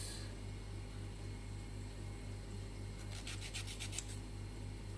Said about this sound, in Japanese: そしてヤスリでこの辺にかけてヤスっていきます。